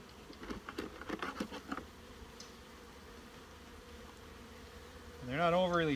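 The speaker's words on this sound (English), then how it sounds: "there's enough bees in these hives to be able to get them to flip this nest over" Honeybees hum around hives after winter, a faint steady buzz with soft tapping early on, then a louder swelling drone near the end.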